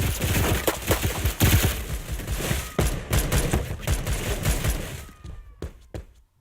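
A Saiga-12 semi-automatic shotgun in a Roblox game fired in a rapid, dense string of loud booming shots, each blast close and punchy, tapering off with a few spaced final shots and a faint tail.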